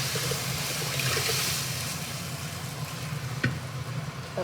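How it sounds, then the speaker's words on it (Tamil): Rasam poured into a pan of hot tempering sizzles with a steady, broad hissing fry, close and fairly quiet, with a couple of small pops near the end. "இப்போ ரசம் எடுத்து ஊற்றிடுங்க."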